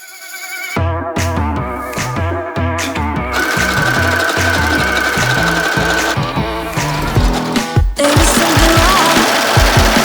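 An overlocker serges fabric for a skirt top, running loud and close in steady mechanical bursts with short pauses between runs, with no voices over it.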